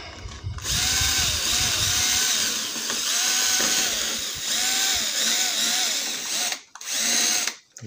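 A wrench or ratchet works a carburetor bolt on a Honda GCV lawnmower engine, giving a loud, continuous mechanical whirring with repeated rising tonal sweeps, close up, pausing briefly near the end.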